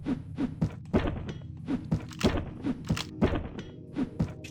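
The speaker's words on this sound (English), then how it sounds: "Someone, like, seriously firing mortars from somewhere" Mortars launching in the Zortch video game, a steady series of deep, hollow thumps roughly every third of a second, close and punchy with short crackly tails.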